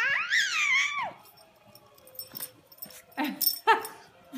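A female puppy lets out a high, wavering whimper, then gives several short yips and whines in bursts, close and fairly quiet, with brief pauses between them.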